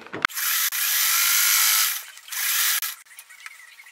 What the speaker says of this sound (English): we're going to go sew down this fold